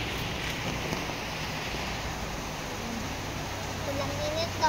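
Steady rain falling in a mountain setting, an even wash of hiss and patter that persists throughout at moderate level, with a voice talking over it.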